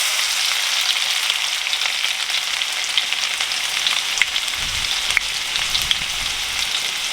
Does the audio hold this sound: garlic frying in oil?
yes